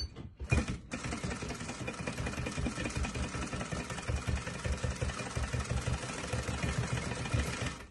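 Sewing machine stitching the folded hem of a fabric face mask, a fast, steady whirring clatter that starts after a brief bump and runs continuously up close, with no talk.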